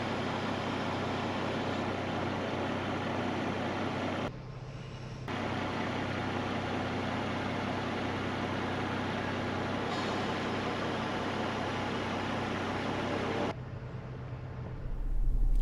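A Land Rover Defender 110 SE's air suspension raising from its low setting gives a steady mechanical whir and hiss that runs continuously, briefly cutting out once, then stopping near the end.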